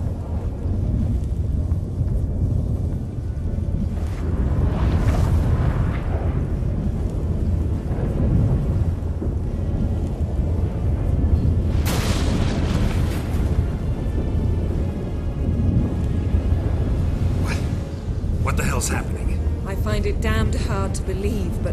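Thunderstorm in The Witcher 3 video game, with loud, continuous rumbling and wind-like roar throughout and sharper cracks of thunder bursting in now and then, heard under the characters' speech.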